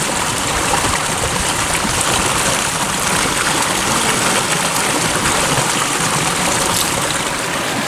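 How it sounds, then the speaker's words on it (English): A river flows on a rising tide past the levee of a shrimp pond, making a steady, broad rushing wash with no breaks and no voices. "the river's still going from left to right, so the tide's still rising"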